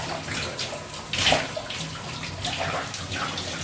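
Cold shower water spraying steadily, a close, continuous splashing hiss with a brief louder surge partway through.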